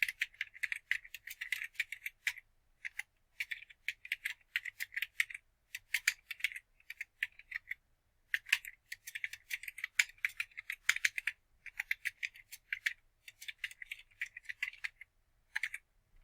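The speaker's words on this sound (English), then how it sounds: "now we're just gonna start typing" Bursts of typing on a computer keyboard, quick clattering keystrokes in runs separated by short pauses, close and fairly quiet with no voices.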